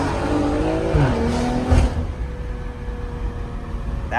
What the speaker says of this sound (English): Let's see if I can do a first gear hit.